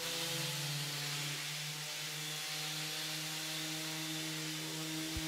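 An orbital sander with 150-grit paper runs steadily on a wooden tabletop throughout, a continuous whirring drone with a high, gritty hiss on top and no pauses.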